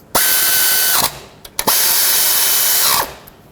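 A power tool snugs the throttle-body bracket nuts on a 2007-2009 Saturn Aura in two loud, close bursts of roughly a second each, both ending in a falling ratchet-like whine. A brief click separates them.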